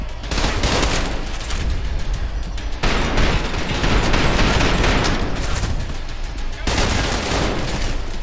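Sustained rapid gunfire from guns in the fast first-person shooter Trepang2, loud, dense bursts running almost continuously with brief breaks, close and aggressive, with no talk over it.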